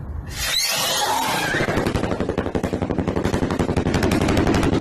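A fireworks shell launches with a loud whooshing burst, followed by a rapid, dense train of crackling pops that continues steadily to the end, close and loud, with no talking.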